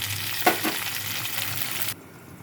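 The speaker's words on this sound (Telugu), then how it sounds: "వేగాక ఉల్లిపాయలు పచ్చిమిరకాయలు వేస్తాను." Onions and green chillies frying in hot oil give a steady close sizzle with a couple of stirring scrapes, then the hiss cuts off abruptly near the end.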